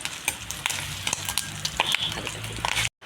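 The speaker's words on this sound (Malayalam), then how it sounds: "ആദ്യം നമുക്കൊന്ന് തേങ്ങ വറുത്ത് കോരിയെടുക്കാം." Grated coconut fries in a pan for a curry, giving a dense, continuous sizzle with repeated scraping stirs close by, cutting off abruptly at the end.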